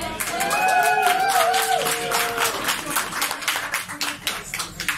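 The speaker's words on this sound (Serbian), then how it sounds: "Dobio se aplauz, nisam ništa uradio" A festival audience applauds in a hall, a rippling spread of clapping heard under a voice that speaks over the start.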